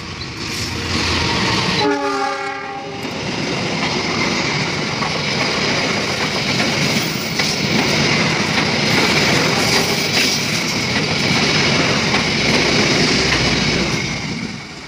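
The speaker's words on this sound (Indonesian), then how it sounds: "Kita akan menantikan kereta Wilis melintas sesaat lagi menuju Surabaya." An Argo Wilis passenger train in Indonesia roars past at full speed, loud and continuous, with a brief horn blast near the start and steady rumbling rush throughout.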